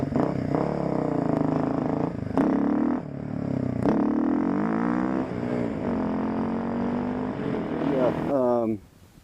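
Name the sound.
Kawasaki KLX250s motorcycle engine running with titanium exhaust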